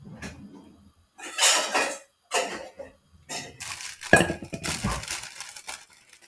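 A bowl grabbed from a cupboard in a home kitchen while making pasta with roasted bell pepper sauce, with several bursts of clinking and rustling dishes, close and moderately loud, separated by short quiet gaps and no talking.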